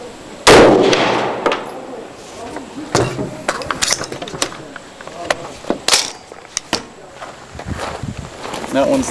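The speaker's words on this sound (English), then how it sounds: "We're going to fire it out of our Varmageddon Signature Series AR rifle." A Nosler Varmageddon Signature Series AR varmint rifle fires .223 Remington rounds at water-filled gallon jugs outdoors, giving one loud sharp report followed by scattered clanks and thumps, with speech in between.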